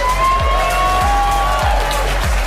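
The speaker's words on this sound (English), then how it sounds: "let's give them a big round of applause as they come on out" Large conference audience applauding and cheering as presenters walk onstage at a live business summit, a dense steady roar of clapping with whoops, while a background tone and rhythmic low thumps of stage music carry underneath.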